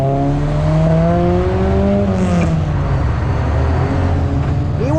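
A truck engine revs as the driver works the throttle, the pitch climbing in a few steps and then dropping, loud and fairly close, with traffic noise around it.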